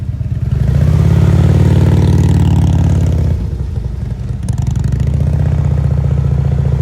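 Two Harley-Davidson CVO motorcycles idle and creep along during an advanced slow-speed riding skills practice. Loud, close, low engine rumble swells, drops back to idle, then builds again, with no voices.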